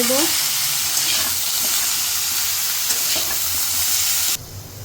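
Vegetables fry in a pan while turmeric, chili powder and salt are stirred through, a dense continuous sizzle with soft scraping stirs, the hiss dropping noticeably near the end.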